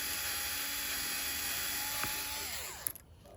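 An electric screwdriver used as a drill whines steadily while boring a hole for a Nissan Leaf licence plate light frame, the motor tone dropping and cutting off near the end.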